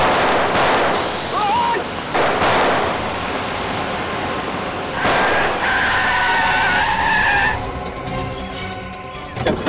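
A car in a CID crime drama is driven at two people, with loud tyre skidding and screeching bursts, engine roar and crashing noise over a busy dramatic soundtrack, and no talk heard during the run.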